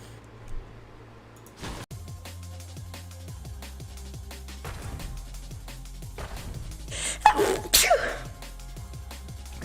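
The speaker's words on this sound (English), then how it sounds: "Oh, I have to sneeze." A person sneezes loudly around the eight-second mark, a sharp burst after a short build-up, rising over a steady low hum and scattered clicks from a nearby game.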